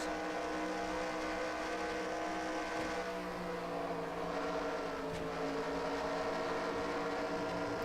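A racing truck engine accelerates in NASCAR Racing 2003 during a Pennzoil Truck Series race, the Sony 200, as a steady, close droning roar with layered harmonic tones that shift slightly in pitch as the revs change throughout.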